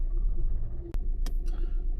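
A hard-starting car engine idles with a misfire, a low uneven rumble broken by a sharp click and a couple of brief irregular bursts, heard close with no talking.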